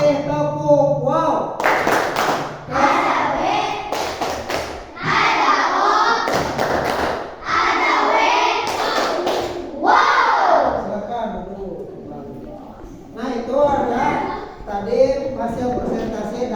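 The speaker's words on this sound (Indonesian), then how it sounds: "kasih tepuk tangan dulu untuk kelompok terakhir ini dan kasih tepuk wow" A classroom of students applauds the final presentation group, with rhythmic bursts of clapping and thumping mixed with loud shouted voices and chatter.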